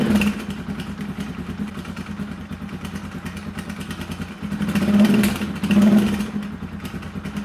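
A Rusi Classic 250 motorcycle runs with a newly installed muffler on its exhaust. It gives a steady, close, throbbing idle, then rises with two short revs near the end.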